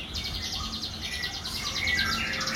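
Many birds chirping together at a bird farm, a dense, steady chorus of overlapping high tweets and calls filling the space without pause, with a low background rumble.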